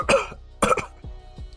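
A man coughs several times in short bursts, two louder hacking coughs followed by softer throat-clearing sounds, close and alone.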